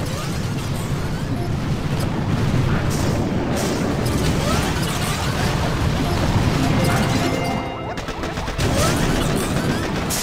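Cannon fire and explosions in the Boom Beach video game, a dense, continuous rumble of blasts and crashes with barely a pause, loud throughout.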